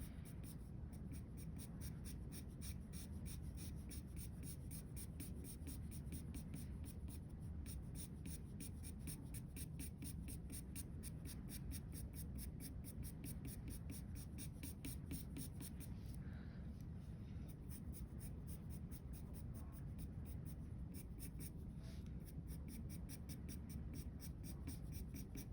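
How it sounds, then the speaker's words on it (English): A pencil draws on paper, shading and pulling out fine hair strokes around an eye, making a quiet, steady scratching that continues unbroken for about twenty-five seconds. "And then I use my darker pencil to just pull out certain hairs"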